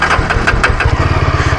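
A Scrambler motorcycle's exhaust note rumbles close and loud, a rapid, pulsing low throb with a few revs at the start before settling into an even idle.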